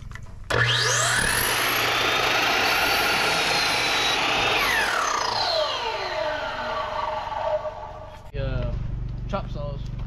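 A chop saw cuts wood on a tiny off-grid cabin build: a sharp motor whine spins up, the blade bites through the board in a loud sustained cut, then winds down with a falling pitch before a thud.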